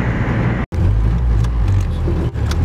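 A 1989 Mitsubishi Mighty Max pickup truck driving and accelerating, its low engine drone steady and close inside the cab, with two brief drops as gears shift.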